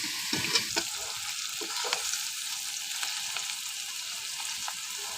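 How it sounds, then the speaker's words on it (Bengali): Onions frying in a pan while beef is being prepared, a steady crackling sizzle with repeated scraping stir strokes close up, no voices. "পেঁয়াজটা ভাজা হয়ে গেছে"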